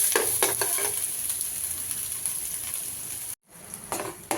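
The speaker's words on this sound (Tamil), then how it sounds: "நல்லா ஃப்ரை பண்ணணும் நல்லா ஃப்ரை பண்ணணும்" Something fries in a pan with a bright, steady sizzle and a few scraping stirs, cutting out briefly before the sizzling and stirring resume.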